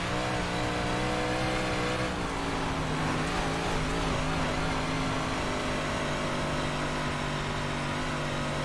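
A 358 modified race car on a dirt track in the iRacing sim roars continuously at high revs, its engine note shifting as it slides sideways through a corner, loud and close with no talk.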